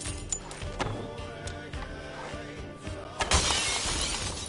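Stained glass windows shattering in an Assassin's Creed game, a rapid series of sharp crashes and tinkling breaks with a bigger smash near the end, loud and close.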